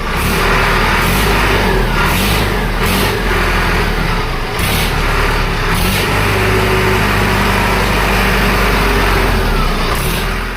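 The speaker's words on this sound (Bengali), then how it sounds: "এই যে গাড়ি কিন্তু স্টার্ট হয়ে গেছে। চলুন ইঞ্জিনের সাউন্ডটা আপনাদের শুনিয়ে দিচ্ছি।" A Maruti Alto car with a Cooch Behar registration, at a used-vehicle showroom in Petla, Dinhata, runs close by with a steady loud engine drone and repeated revs throughout, with no talking.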